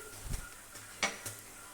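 A spoon briefly scrapes and clinks in a pan as Kashmiri chili, coriander and turmeric powders are stirred into a capsicum curry, with a few quiet, separate strokes.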